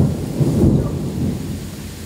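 Thunderstorm with hail and rain in Strzelce Opolskie, Poland: a heavy, constant wash of falling precipitation with a deep rumble of thunder swelling briefly in the middle, loud and close, with no speech.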